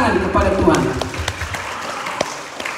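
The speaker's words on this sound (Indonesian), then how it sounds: "Mari tepuk tangan kepada Tuhan." An audience at a Nias church gathering claps in scattered, uneven bursts, with voices and a few sharp louder claps standing out amid the room noise.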